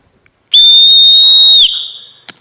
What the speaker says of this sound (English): We have the tiniest whistle I think I've ever seen.